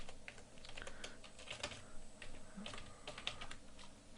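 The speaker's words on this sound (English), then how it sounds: "type in Java and the name of the class" Steady keystrokes on a computer keyboard entering a Java command, a continuous run of light clicking taps at close range with no voices.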